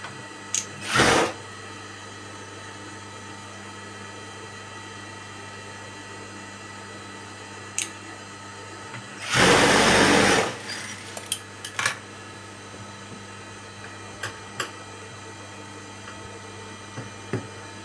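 A sewing machine stitching a blouse runs in two short bursts, the second slightly longer, separated by quiet stretches with scattered light clicks and taps of handling.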